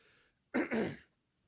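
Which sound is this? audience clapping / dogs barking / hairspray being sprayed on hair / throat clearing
throat clearing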